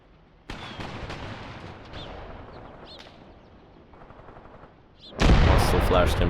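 Artillery and gunfire crack through the Mius Front war game: sharp reports and a rumbling barrage start abruptly, then a loud, dense burst of firing erupts near the end.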